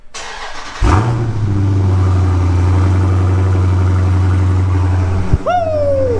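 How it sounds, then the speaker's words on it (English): A car engine cold-starts on an early morning: a brief cranking burst, then a steady loud idle that holds for several seconds before a short rise in revs, with no talking. "So who's up for a 6 a.m. cold start?"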